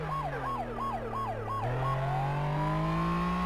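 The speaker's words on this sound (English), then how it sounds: "I'm gonna kill the siren so they don't hear us coming" Emergency vehicle siren in the video game Flashing Lights, a rapid yelping warble that switches into a slower rising wail, loud and continuous with no voices.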